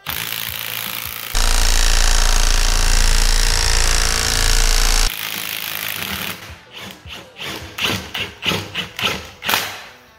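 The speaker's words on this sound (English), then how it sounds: "So you just put an impact on there," An impact wrench works on a Dana 44 axle during a regear, giving one sustained loud rattling burst for several seconds, then a series of short rapid hammering bursts close up, with no talking.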